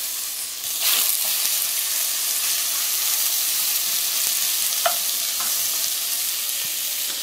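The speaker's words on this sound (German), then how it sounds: "Und dann braten wir als allererstes unser Fleisch an." Meat sears in a hot cast-iron Dutch oven, giving off a loud, continuous, even sizzle with faint crackles and a few light clicks of utensils, close up and with no talk.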